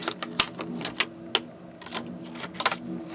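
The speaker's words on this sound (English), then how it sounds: "But cut the packaging off so that you have a flat sheet." Scissors snip through stiff plastic packaging to free a flat sheet, giving close, irregular sharp clicks and crinkly cutting bursts with quieter handling in between.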